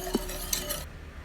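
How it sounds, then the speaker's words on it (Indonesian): Stirring coconut milk and sugar in a pot over medium heat, a few faint scrapes and clinks of a utensil against the pan, quiet and brief with no voices. "Masak dengan api sedang sambil diaduk."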